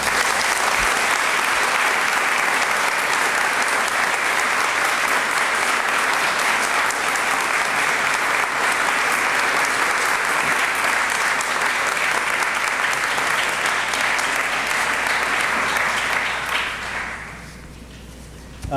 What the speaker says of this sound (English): give everybody another round of applause for being inducted